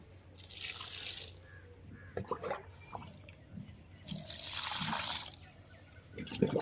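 Water poured from a container onto potted rose plants in a home garden, trickling and splashing in soft uneven bursts with faint dripping in between, quiet and close.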